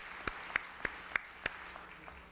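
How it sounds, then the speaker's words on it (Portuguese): Scattered, sparse clapping at a formal honoree ceremony: about five distinct claps spaced roughly evenly, fading into a couple of faint ones, with a quiet room behind. "pedindo uma salva de palmas"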